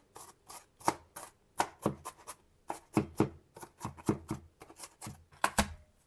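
Rapid knife strokes finely chopping an onion on a board, close and crisp, in quick irregular bursts of several taps with short pauses between.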